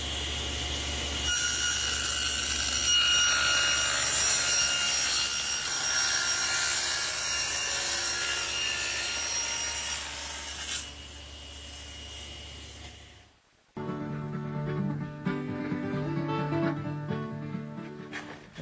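A table saw rips a tongue along a wood board for a bedside table breadboard edge, a loud sustained whine under load that cuts off abruptly, then the blade spins down with scattered workshop clatter.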